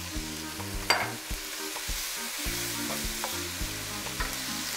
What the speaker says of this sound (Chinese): 这个时候呢，我们就把这个全部的东西给它炒啊